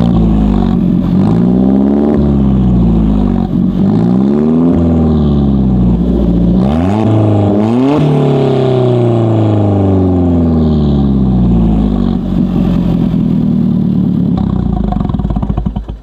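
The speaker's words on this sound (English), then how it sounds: "the exhaust, it is a Capristo exhaust. I will give you guys a quick little sound of it." Alfa Romeo 4C with a Capristo exhaust revving hard, loud and close, with repeated rising and falling blips of engine pitch followed by a long sustained rev that drops away at the end.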